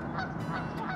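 Geese honk repeatedly at close range, a burst of overlapping nasal calls over a faint background.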